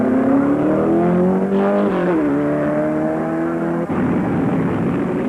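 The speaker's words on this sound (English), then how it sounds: "Both STP racers, Petty in 43 and Baker in flame red number 11, use the daring and effective drafting technique to blister their way around the racetrack." Early-1970s STP stock cars race around the steeply banked Daytona track in a Daytona 500 qualifying race, engines drafting close together with a loud, continuous roar that rises and drops in pitch as the cars pass.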